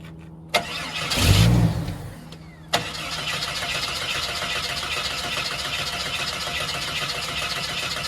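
A Jeep Wrangler YJ with a carburetor and mechanical fuel pump gives a sharp click, then a loud rumbling starter crank lasting about a second. A second click follows, then a steady broadband whir continues to the end.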